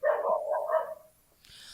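A neighbor's dog barking, a short run of mid-pitched barks up close followed by a quiet pause and faint noise.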